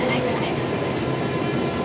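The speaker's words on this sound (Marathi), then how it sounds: "चला फायनली आम्हाला इथे ट्रेन मिळालेली आहे." A Mumbai local train rumbles steadily from inside or right alongside the carriages, a loud continuous roar with faint clatter and voices.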